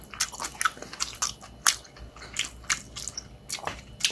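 Someone bites and chews freshly caught, cooked Atka mackerel in soft, irregular mouth sounds at close range, with no talking.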